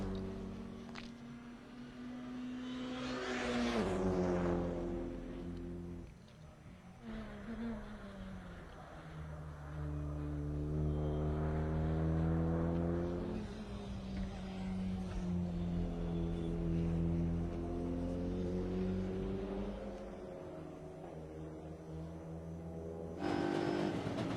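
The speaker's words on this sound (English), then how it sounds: "Riding on board again with Esteban Guerrieri in the All-Inkle Motorsport Honda." Onboard engine of Esteban Guerrieri's Honda touring race car at the Nürburgring, a steady droning note that climbs and falls through gear changes over about twenty seconds, heard from inside the cockpit.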